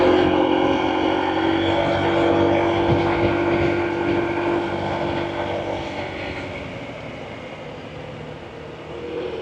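A Honda ADV160 scooter cruises at about 50 km/h, its steady engine drone mixed with broad wind and road rush that stays loud and constant throughout, easing slightly toward the end.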